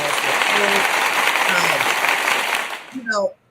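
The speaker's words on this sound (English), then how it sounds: "Let me do an applause" An applause sound effect plays during a sports talk show, a dense burst of clapping that runs for a few seconds and then cuts off as a voice comes in.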